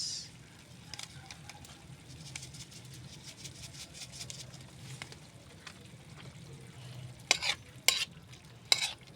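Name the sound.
vegetables sautéing in pan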